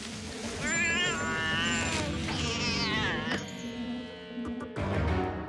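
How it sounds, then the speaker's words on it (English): Cartoon cat meowing and caterwauling in a children's animated rescue-robot show, loud, drawn-out wavering yowls rising and falling over about three seconds, then a crash-like hit and quieter background sounds. "And what if you need help getting your cat down from a tree?"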